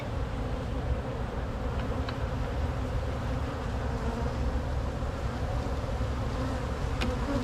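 Honey bees hum in a dense, steady buzz during an early-season hive colony inspection, with many insects close by and a few faint clicks from handling the hive.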